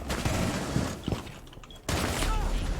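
Rapid gunfire crackles in a Rainbow Six Siege match, dense bursts of shots with a brief lull before another heavy burst of fire, loud and close.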